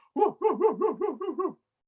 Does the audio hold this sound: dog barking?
yes